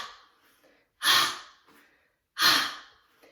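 Two forceful, breathy exhalations punch out through the mouth during a Kundalini yoga breathing exercise, close and loud, spaced about a second and a half apart with quiet in between.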